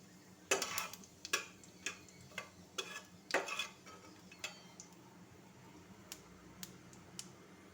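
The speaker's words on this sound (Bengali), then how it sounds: "এবারে ভালো করে নাড়াচাড়া করে নেবেন" Whole cumin, a dried chilli, a bay leaf and crushed whole garam masala stirred in hot oil in a pot, giving quiet, irregular spoon taps and scrapes against the metal, spaced out and fairly faint, with no voices.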